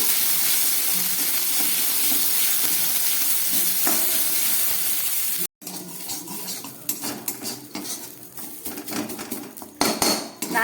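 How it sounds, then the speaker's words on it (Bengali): Grated coconut frying with bay leaves in a pan, first a steady hiss of sizzling oil, then after a brief cut a spatula scraping and clanking against the pan in uneven strokes over the frying. "আর দিয়ে দিচ্ছি কিছুটা নারকেল কোড়া খুব ভালো করে এটাকে আমি ভেজে নেবো"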